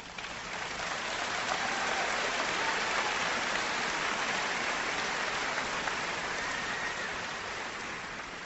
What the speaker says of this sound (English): Would Mike and Reba please stand and let us applaud you for raising a great young